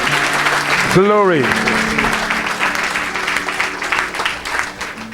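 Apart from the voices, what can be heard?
audience applause at church event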